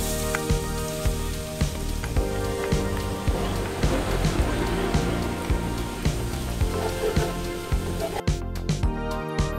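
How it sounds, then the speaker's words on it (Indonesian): Minced garlic sautéing in cooking oil in a pan until golden, a continuous close crackling sizzle that holds steady and loud throughout. "Lalu kita tumis terlebih dahulu bawang putih yang dicincang tadi ya."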